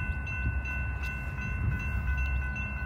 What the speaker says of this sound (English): Locomotive SD70MACe.